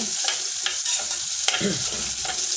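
Ginger and onion sautéing in oil in a pan for tinola, a close, continuous sizzle broken by several sharp spoon scrapes and clacks as the pan is stirred.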